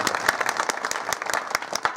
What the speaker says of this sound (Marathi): या बाल गोपालांकरता एकदा जोरदार टाळी वाजवा.